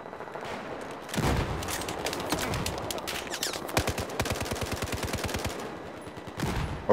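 Rapid automatic gunfire in the Battlefield 4 beta, with dense bursts of shots rattling in quick succession for several seconds, loud and close, with brief pauses between bursts and no talking.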